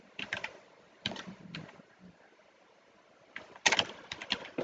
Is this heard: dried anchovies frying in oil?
no